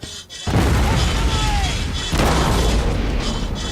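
Artillery cannon fire in the video game MOWAS 2 during a Union siege of Fort Wagner, a heavy booming blast followed by a long rumbling roar with a second boom, loud and close.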